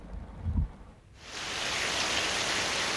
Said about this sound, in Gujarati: ગીર અને ગીર જંગલમાં ધોધમાર વરસાદ છે તે વરસી રહ્યો છે